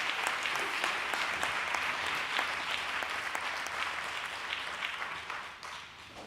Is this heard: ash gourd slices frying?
no